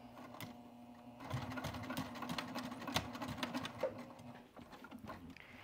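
A sewing machine stitches the perimeter of an apron with a steady mechanical whir and rapid clatter of the needle, close and fairly quiet, pausing briefly then running on.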